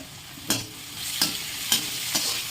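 Onions and green chillies sautéing in a pan for a home-style chicken gravy, a soft steady sizzle broken by four evenly spaced scraping stirs of a spoon against the pan.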